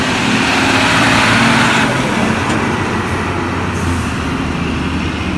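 An Epastar The Sultan Mercedes-Benz bus arrives in a loud, steady engine rumble with road noise, joined by a couple of brief hissing air-brake bursts.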